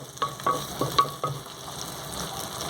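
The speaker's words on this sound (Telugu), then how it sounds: "ఉల్లిపాయలు కాసేపు మగ్గనిద్దామండి ఉల్లిపాయలు మగ్గుతున్నాయండి" Onions sautéing with salt in a pan for a raw mango curry, a steady low sizzle with several soft stirring scrapes and taps early on, fairly close and without any voices.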